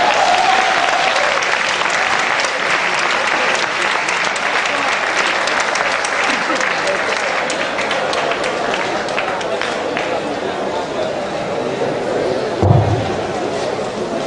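Sustained audience applause fills a university lecture hall after a talk on professionalism, dense steady clapping throughout with a brief voice at the start and a low thump near the end.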